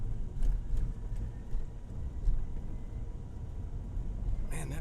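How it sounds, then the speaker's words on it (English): A loud bus passes on a city street in Austin, giving a heavy, steady low rumble that fills the whole stretch with little change in level. "that bus is loud"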